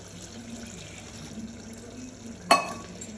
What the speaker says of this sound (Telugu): ఈ అటుకుల్ని తీసుకున్న తర్వాత నేను దీన్ని ఏం చేస్తున్నానంటే కొన్ని నీళ్లు పోస్తున్నాను దీంట్లో.